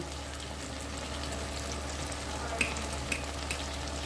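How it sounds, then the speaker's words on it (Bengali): Spiced paneer masala sautés in a pan with a steady, close sizzle and hiss, broken by a couple of sharp clicks from stirring near the end. "এটা ভালো করে দেখো কষিয়ে নেব"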